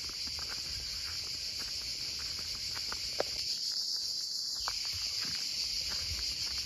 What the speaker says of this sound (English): Can you hear the cicadas?